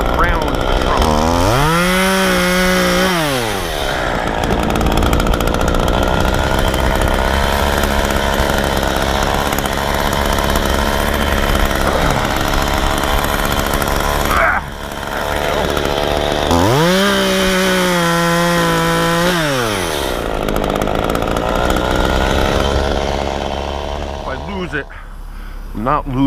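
A chainsaw cuts the trunk of a 70-foot maple being removed between two buildings, running loud and steady throughout with two rising-and-falling revving bursts as the bar bites and clears.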